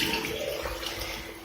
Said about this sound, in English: So I'm just gonna wash my hands.